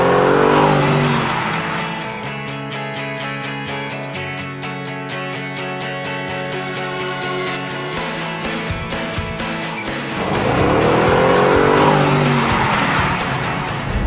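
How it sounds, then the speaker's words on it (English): A Bentley sports car races past with a loud engine roar and tire squeal, swelling and fading twice, with no voices. "I don't stand a chance in a race against Harry in a Bentley"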